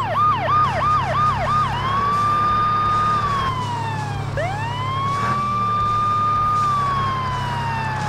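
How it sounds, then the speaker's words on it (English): A loud cartoon emergency vehicle siren wails continuously, first in quick yelping cycles and then in long rising and falling sweeps, over a low rumble of traffic. "the emergency vehicle's lights and siren are activated"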